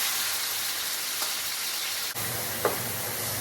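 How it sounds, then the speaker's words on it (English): Pork meat searing in hot oil, a loud continuous sizzle and crackle close by, with a couple of brief pops and a soft clatter partway through. "This oil is done, and we're gonna sear all this meat."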